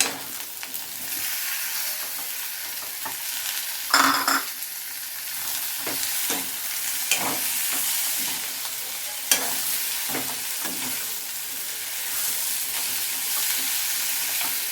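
Okra and tomato fry and sizzle in a pan for egg curry, with a steady hiss broken by scraping clinks and stirring strokes as a spoon works the vegetables, close and alone with no voices.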